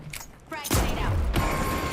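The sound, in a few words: frag grenade explosion in video game The Finals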